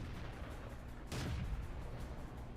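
A tank cannon fires once in World of Tanks, a single heavy boom rising over a steady noisy rumble of engine and battlefield ambience, mid-distance and moderately loud.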